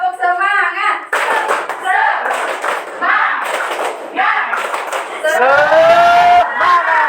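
A classroom of students claps the rhythmic 'tepuk semangat' pattern, sharp sets of hand claps in a steady beat while the group chants loudly along with them.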